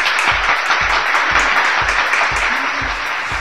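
Audience applause for a guest introduced as Peter Drucker at a university management show, dense clapping from a crowd held steady throughout.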